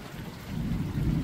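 Rain and a low rumble of thunder from approaching Hurricane Beryl in southern Texas, a continuous wash of rainfall with deep rolling thunder swelling toward the end, no voices.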